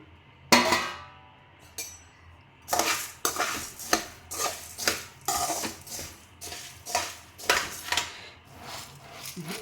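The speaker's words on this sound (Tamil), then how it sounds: "அடுத்தல தட்டி வறுத்துருவோம் ரெண்டு ட்ரிப்லேயே வறுத்து எடுத்துடலாம்" Fish curry masala spices dry-roasted in a pan, a utensil scraping and clanking against the metal in a steady rhythm of repeated strokes, loud and close with no talking.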